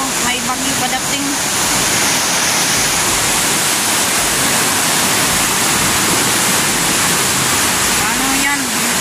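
A dense, unbroken roar of floodwater rushes down the Piñan River after a night of heavy rain, loud and close, with short bits of speech heard over it at the beginning and end.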